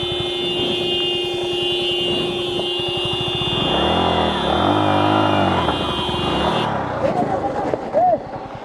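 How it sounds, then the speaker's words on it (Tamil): An off-road vehicle's engine labours and revs on a Munnar to Vattavada trail, a loud close rumble swelling and falling, with a steady tonal whine over it that stops abruptly near the end. "வண்டி நிக்க மாட்டேங்குது"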